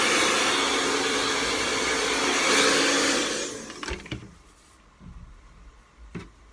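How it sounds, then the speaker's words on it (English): Hair dryer blow-drying hair, a loud steady whooshing roar for about three seconds that then cuts off, leaving faint handling noises and small clicks. "with the hairdryer pointing downwards"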